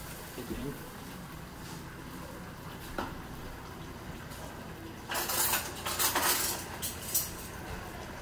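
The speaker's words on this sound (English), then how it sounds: "I'm going to grab a spoon" Metal spoons clinking and rattling against a pot and each other while finishing chili in a kitchen, a few close light clanks clustered near the end amid quiet background.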